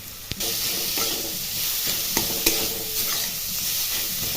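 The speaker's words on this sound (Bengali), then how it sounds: "এরপর দিয়ে দিতে হবে গ্রেট করে রাখা গাজরটাকে দেওয়ার পর একটু ভেজে নিতে হবে" Grated carrot frying in a pan for a cauliflower pitha, a dense, loud, continuous sizzle punctuated by a few sharp clicks of a spatula against the pan.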